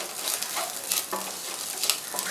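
Rice stir-fried in a pan for chicken fried rice, with a steady loud sizzle broken by short scraping stirs of the spatula, close up and with no voices.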